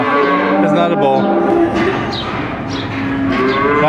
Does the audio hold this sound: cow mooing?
yes